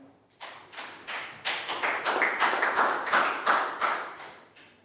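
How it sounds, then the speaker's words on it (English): A classroom of young primary pupils gives a round of applause in an English lesson, heard as a series of separate loud clap bursts, each sharp and quickly fading, spread over several seconds with no talk over them. "Big round of applause for Prel."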